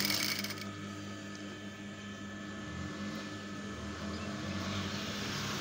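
A sewing machine stitches elastic into the waist of a skirt-style palazzo, giving a steady, close mechanical hum and rattle that runs continuously throughout without any talking.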